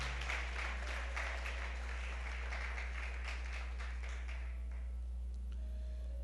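Faint scattered applause from a church congregation during a sermon, over a steady low electrical hum, the clapping fading out after a few seconds and leaving only the drone.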